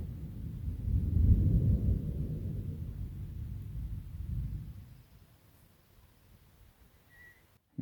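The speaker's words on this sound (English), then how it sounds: "Can you hear that thunder? It's that way. It's coming this direction." Distant thunder from an approaching storm rolls as a low, drawn-out rumble for about five seconds, swelling early and then fading to near quiet.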